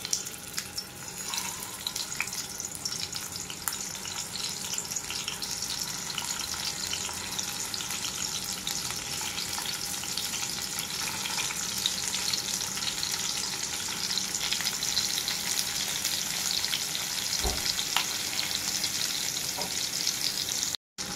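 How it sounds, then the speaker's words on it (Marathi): Stuffed bitter gourds frying in hot oil, a loud, even, continuous crackle and hiss heard up close for a long stretch, with one faint knock near the end. "तेल छान तापलंय, तर आता एक एक कारली मी फ्राय करायला ठेवते"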